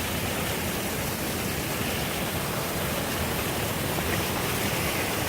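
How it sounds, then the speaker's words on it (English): Rushing creek water and a large waterfall at night on a trail near Mount Whitney, a loud, dense, unbroken roar that stays constant throughout. "Let's see the big waterfall."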